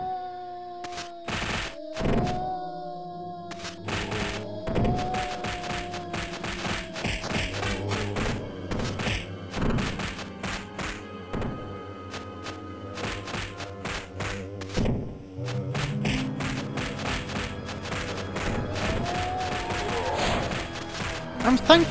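Crossbow and assault rifle shots ring out in a Resident Evil fan game, a dense run of sharp, loud impacts and bursts over game music and effects, with talk mixed in.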